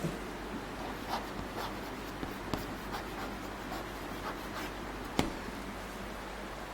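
Chalk writing on a classroom blackboard, a soft continuous scratching and rustling with a few sharper taps as strokes begin, close and quiet with no talking.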